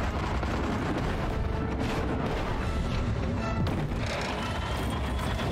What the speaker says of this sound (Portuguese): os mísseis estão vindo muito mais rápido